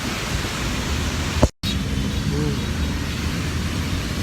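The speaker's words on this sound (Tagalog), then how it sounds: "Ulan pa rin." Steady rain falls outdoors along a road during a run, a constant hiss of drops throughout with a brief dropout midway.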